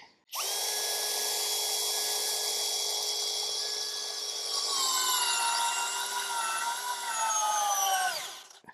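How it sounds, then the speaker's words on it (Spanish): A Hilti cordless drill driver at speed 1 in drill mode drives a large screw, a steady high whine held for about eight seconds that strains and drops in pitch near the end before stopping. "este es el Hilti. Velocidad 1, modo taladro, el Hilti. Vamos a ver cómo le va con el tornillo grande."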